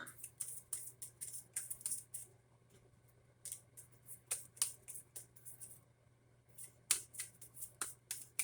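Tarot cards being shuffled and drawn: quiet clusters of soft slaps and riffling flicks come in bursts, with short pauses between, close and faint.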